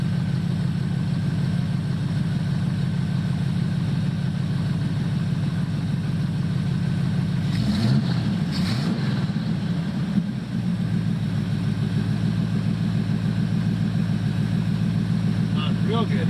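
A worn-out engine in a 1976 Chevrolet C10 squarebody pickup idles with a steady, low, even rumble close by. A brief disturbance passes midway, and the idle stays constant throughout.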